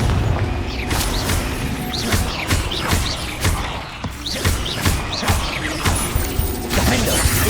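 Blasts from the Confringo explosion spell in the Hogwarts Legacy video game land as repeated loud booms and crashes in rapid succession, layered over continuous combat noise and music.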